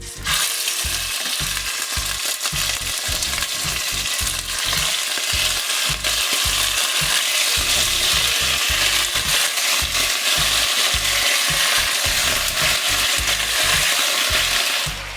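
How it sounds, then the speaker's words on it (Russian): Lamb ribs sizzle and crackle loudly in hot oil in a kazan, a dense, steady frying hiss with rapid popping throughout, close and continuous with no voices. "И теперь в это масло мы потихонечку начинаем отправлять наши ребра."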